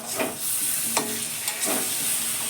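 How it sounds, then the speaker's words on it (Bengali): Chicken sautéing with yogurt in a pan makes a close sizzle with soft scraping stirs and a few brief clacks of the spoon, short and steady with no speech. "এবার টক দইটা দিয়ে কষিয়ে নেব।"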